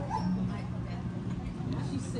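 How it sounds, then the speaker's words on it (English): A dog yips and whimpers, barking for a croissant outdoors, with short high yelps close by amid background noise and people talking. "She's barking for that croissant."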